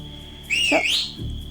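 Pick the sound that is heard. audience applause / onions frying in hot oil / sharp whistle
sharp whistle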